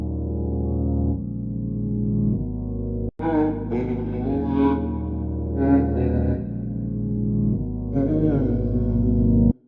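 A deep, warped synthetic sample, pitched down and reversed, swells and shifts in heavy distorted tones, drifting with echoey texture, cutting out briefly once before returning.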